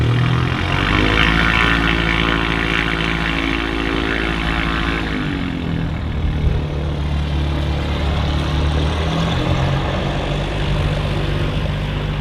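At Manchester City Airport, a small propeller aircraft drones steadily nearby, its engine holding a constant hum that shifts pitch slightly partway through, with no talk over it.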